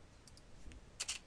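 A handful of faint, sparse keystrokes tap on a computer keyboard, ending with a quick pair of clicks in a quiet room.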